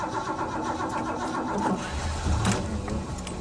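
The 7.5 litre engine of a 1969 Lincoln Continental Mark III starts up, cranking and catching into a rough, loud running rumble close by, with no voices over it.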